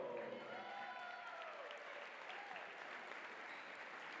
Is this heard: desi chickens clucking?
no